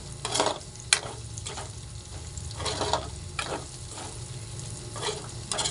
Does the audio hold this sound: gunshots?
no